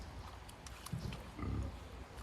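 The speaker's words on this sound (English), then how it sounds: "This is our main breeder pair of Idaho Pasture Pigs." Idaho Pasture Pigs in a breeder pair grunting: two low, soft grunts, the second longer, over faint outdoor background noise.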